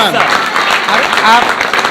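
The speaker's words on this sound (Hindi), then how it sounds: "जोरदार तालियां भी" Audience applause at a direct-selling motivational talk, a brief burst of clapping heard under and around a loud speaking voice.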